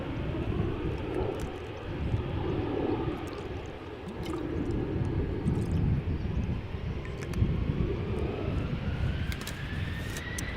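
Airliner departing from a runway at Amsterdam Schiphol Airport, a broad steady jet engine roar with wind buffeting and a rising whine, heard from outside at moderate distance, sustained throughout.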